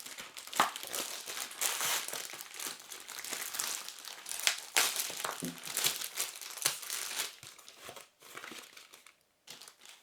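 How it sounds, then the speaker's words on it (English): Clear plastic packing around a female blow-up doll crinkles and crackles steadily as it is pulled open and handled close up, in dense continuous bursts with brief pauses near the end. "remove the female blow-up doll from its clear plastic packet"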